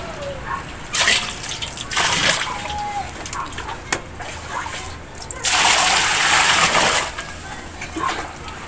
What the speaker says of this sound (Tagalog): Ating mga lilinisin, huhugasan natin uli para malinis.